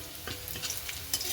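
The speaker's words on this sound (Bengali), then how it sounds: "রসুনটা বেশি পোড়ালে চলবে না, জাস্ট হালকা ব্রাউন কালার আসবে" Garlic frying in a pan while being stirred, a short burst of bright sizzling with scraping spatula strokes and a sharper hiss near the end, close and fairly loud, no voices.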